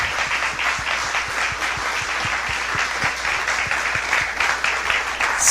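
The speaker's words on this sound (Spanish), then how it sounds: "Dele un aplauso al Señor." A church congregation applauds during a worship service, producing steady, sustained clapping that fills the room evenly with a faint rhythmic pulse inside the crowd noise.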